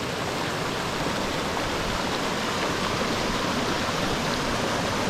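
A waterfall and mountain stream in a canyon on Bukhansan after heavy rain roar steadily, a dense, close, unbroken rush of water with no voices.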